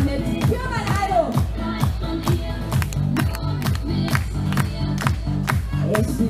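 An outdoor crowd at the Musikfestival Ruhr on Kaiser-Otto-Platz in Essen-Steele claps along to live music. Steady rhythmic handclaps ring out loud and close over the band, with scattered cheering.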